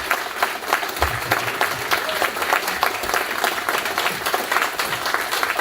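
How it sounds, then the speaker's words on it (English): Steady, dense audience applause greets a World War II veteran at a VFW awards event, many hands clapping continuously at close range with a faint murmur of voices underneath. "Let's give this gentleman a round of applause"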